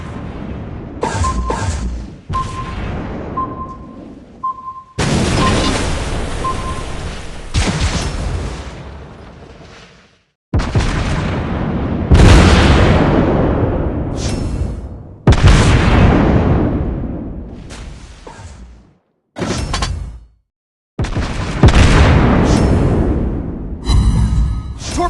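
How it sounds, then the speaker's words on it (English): Torpedo strikes slam into a ship in a fishing-themed video game: a run of loud, heavy explosions and booms, each burst roaring and rumbling before decaying, separated by brief gaps, with no talking. "Torpedoes! We're hit! The ship is on fire!"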